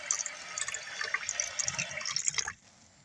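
Water runs from a tap over pork shoulder being washed in a sink, a close splashing stream with dripping that cuts off sharply near the end.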